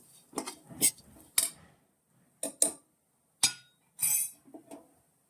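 A metal spoon clinks and scrapes against a pan while beef fries with chilli, coriander, garam masala and turmeric; sharp, separate taps and scrapes come in small clusters with quiet gaps between.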